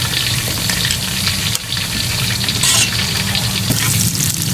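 Garlic fries in oil in a pan for a topping on adobong kangkong with tofu, a loud, continuous hissing sizzle with a few brief clatters of a utensil, close up and without voices.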